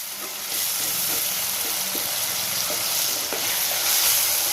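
Thinly sliced tomatoes fry in a pan for a Tamil fish kuzhambu, giving a steady broad sizzle with soft intermittent stirring clicks and scrapes, fairly close and unbroken, with no voices.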